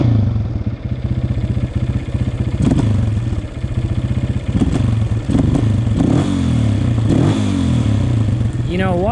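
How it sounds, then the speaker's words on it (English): Honda CRF230 dirt bike engine idling with a rapid, loud chugging pulse, lifting in brief revs and settling back down while someone talks over it. "Let's try turning the idle down."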